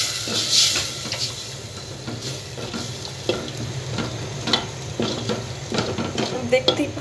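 Spiced gravy in a pan sizzles and hisses steadily after water is added, with scraping and stirring bursts and light clatter of a utensil against the pan throughout.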